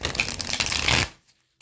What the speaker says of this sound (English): Four shuffles to get your energy into the cards.